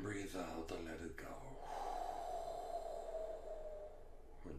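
A slow, audible exhale during a guided breathing session follows a quick intake of breath, a long soft airy rush that trails off gently, close and quiet.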